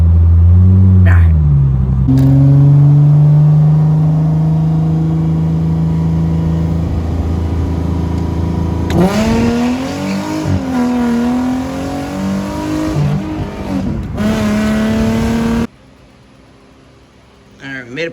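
A Mercedes SLK320 engine with a new exhaust idles, then revs and accelerates hard with a deep, raspy exhaust note rising and falling in pitch, up close, before cutting off abruptly.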